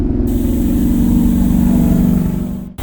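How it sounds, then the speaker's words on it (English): A steady, loud hiss of spray paint from a close sprayer during a test spray, running continuously with an engine-like drone underneath, then cutting off abruptly. "Test spray. Everything's working fine."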